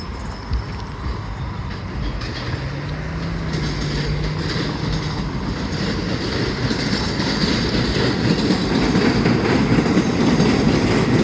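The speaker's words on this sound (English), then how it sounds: "Another 7 train coming out of the tunnel. heading towards Flushing, Queens." A New York City 7 subway train emerges from a tunnel near Hunters Point Avenue heading toward Flushing, Queens, a steady rumbling roar with clattering wheels that grows louder and closer throughout.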